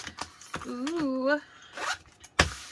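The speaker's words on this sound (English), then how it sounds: "Needle down when you move the zipper." A metal zipper is slid along fabric during sewing, making short rasping zips and a sharp final pull, with a voice briefly exclaiming nearby.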